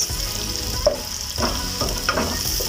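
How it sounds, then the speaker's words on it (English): Onions frying in hot oil for an easy cabbage dinner, a steady close sizzle with scraping stir strokes breaking through every half second or so, and no voices. "and then I put in my onions. Stir that."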